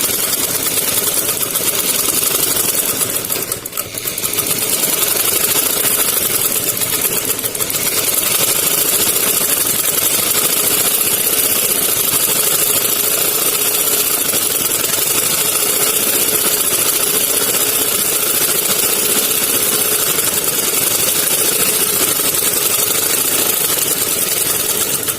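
A sewing machine stitches a salwar strip, running as a steady, close, loud mechanical whir with only a brief dip in motor hum and no talking.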